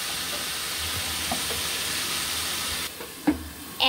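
Potatoes and cauliflower fry in a pan with a steady hiss of oil and steam, a few soft clinks of a utensil near the end.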